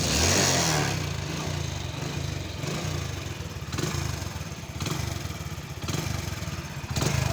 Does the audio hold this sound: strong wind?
no